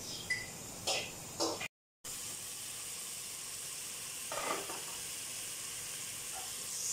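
Chicken and vegetables simmer in a covered pot over low-medium heat for a chicken soup (saluna), giving a steady, soft sizzling hiss with a few faint clicks and a brief dropout.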